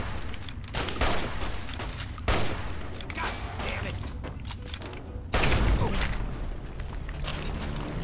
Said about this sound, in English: They threw a grenade behind me.